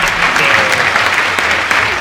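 A theatre audience at a live Catalan radio anniversary show in Figueres claps loudly and continuously, a dense, even wave of applause close to the microphone.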